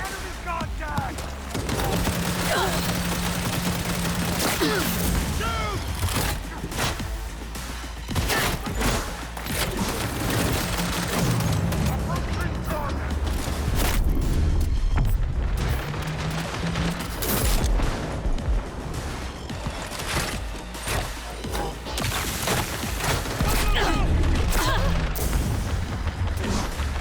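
Heavy gunfire and booming blasts rage throughout a chaotic video game battle, with dense volleys and impacts layered under shouted voices over the whole stretch.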